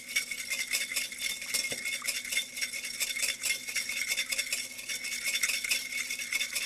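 A marinade for mushrooms is whisked in a bowl, a rapid, steady metallic clicking and scraping that stays close and fairly quiet throughout with no talking.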